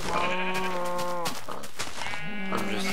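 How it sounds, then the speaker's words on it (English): Sheep bleating in the video game Minecraft, two or three loud wavering bleats close by, each drawn out and overlapping, with no talk. "I'm just trying to kill these sheep for wool."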